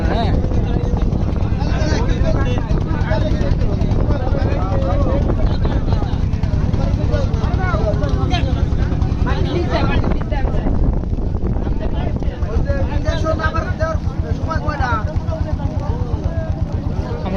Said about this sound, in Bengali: এত জোরে হাওয়া বইতেছে, আমার ছাতাটা ঠিক থাকতেছে না